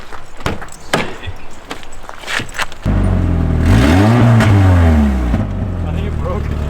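After some scuffing and handling noises, a car with a new S13 exhaust starts up and revs hard, the loud rising and falling engine note close by, then settles into a steady idle.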